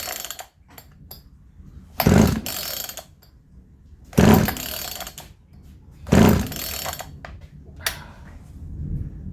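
Three sharp pulls on a chainsaw starter cord during a compression test, each a rising ratcheting rip of the recoil and a brief turnover of the engine, spaced about two seconds apart and close by.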